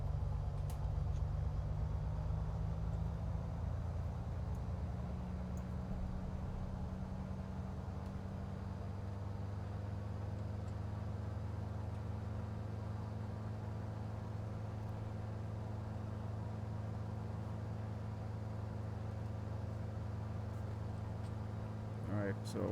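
A Beechcraft V35B Bonanza piston engine in Microsoft Flight Simulator throttled up to 1,700 RPM, a steady low droning hum that settles into a constant tone, fairly quiet and continuous.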